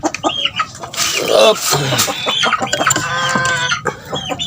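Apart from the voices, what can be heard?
chicken clucking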